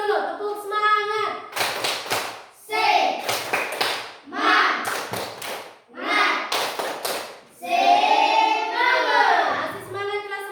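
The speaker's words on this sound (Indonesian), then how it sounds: "tepuk semangat dulu, tepuk semangat" A class of fourth-grade children at a primary school performs a rhythmic 'tepuk semangat' spirit clap, sharp claps in chanted patterns alternating with the kids' loud sung chanting, repeated in several bursts.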